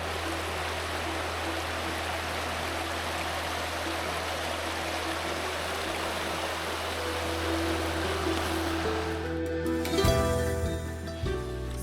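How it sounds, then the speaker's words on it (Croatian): Small waterfall at the Sušica river spring, where a fallen tree trunk makes the water drop, gives a steady, close rushing and splashing roar throughout, with a brief shift in texture near the end. "U principu ovo deblo padne i pravi slap Sušice."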